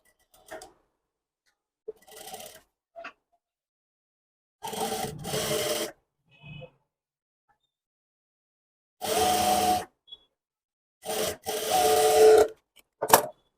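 A sewing machine stitches over piping on cloth in short, separate whirring bursts of a second or so, with near-silent pauses between them and a few faint clicks as the fabric is repositioned.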